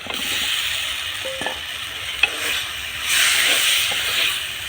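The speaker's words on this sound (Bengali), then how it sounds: "একসঙ্গে মশলার সঙ্গে আমি কষিয়ে নেব ছোটো আলুটি" Spice paste and boiled, peeled small potatoes sizzle and hiss steadily in hot oil as they are stirred, cooking for a sour-spicy snakehead fish dish. The sizzling is close and continuous, swelling louder toward the end.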